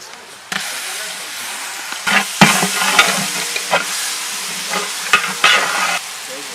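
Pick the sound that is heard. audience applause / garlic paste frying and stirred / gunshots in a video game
garlic paste frying and stirred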